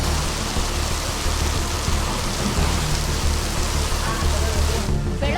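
Light drizzling rain with a cold wind, a dense, steady patter of drops on surfaces that holds evenly throughout, close and fairly loud, with no voices.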